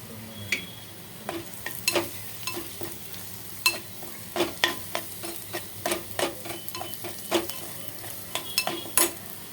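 Red chilli powder, homemade ghati masala and salt fry in a pan while a spoon stirs them, giving rapid irregular metallic clicks and scrapes over a low steady sizzle, close and with no talk.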